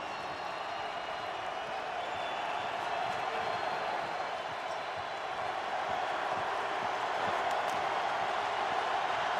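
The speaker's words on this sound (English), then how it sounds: "This crowd cranks it up on 4th and goal." Packed football stadium crowd roaring at a Packers vs Redskins game on 4th and goal, a loud sustained wall of cheering that swells slightly over nine seconds.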